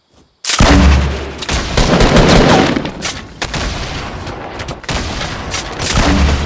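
A rocket explosion and gunfire in Fortnite hit suddenly after a brief quiet, then loud, dense bursts of blasts and shots continue throughout in a near, chaotic barrage.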